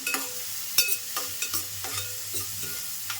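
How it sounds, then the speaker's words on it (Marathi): Onions sautéing in hot oil in a pan, a soft steady sizzle punctuated by a handful of distinct spatula scrapes and taps at uneven intervals, close and quiet, no one talking. "कांदा टाकून घ्यायचा पहिला कांदा ना व्यवस्थितचा परतून घ्यायचा जरा वेळ"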